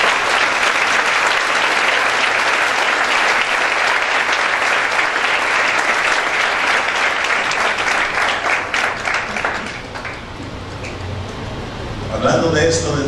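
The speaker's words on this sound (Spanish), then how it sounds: "Denle un aplauso al Rey" A church congregation applauds loudly for the king, a dense roar of clapping that holds for about ten seconds before thinning out. Speech comes in right at the end.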